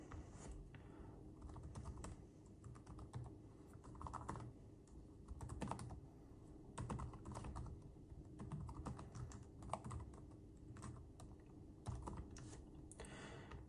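An email address being typed on a computer keyboard, irregular clusters of soft key clicks and taps at close range, quiet, with no speech.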